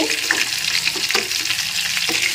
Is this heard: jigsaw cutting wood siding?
no